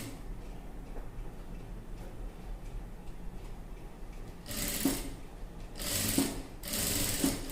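A sewing machine stitches thin piping along a blouse back neck, with short loud bursts of rapid needle clatter near the end after quieter mechanical ticking, close up and with no talk.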